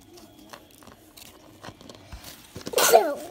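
A single abrupt sneeze close by near the end, after quiet handling and rustling noises.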